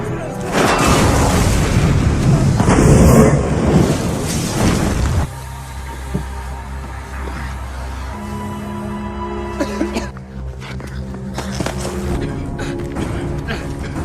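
Explosives detonating in a war film: a loud, rumbling blast roars for about five seconds, then subsides into a lower ringing aftermath with scattered smaller impacts.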